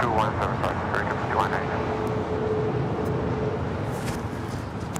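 Spirit Airlines Airbus A320 departing Los Angeles International for Kansas City, a broad, steady jet roar at moderate distance, fading slightly toward the end, with radio chatter and talk over it.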